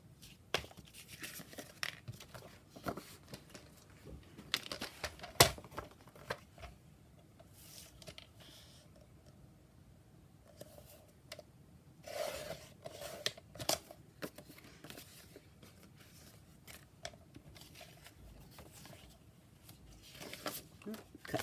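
Scissors cut a paper image for a junk journal: quiet, close snips and rustling paper come in scattered bursts, with a few sharper crinkles along the way.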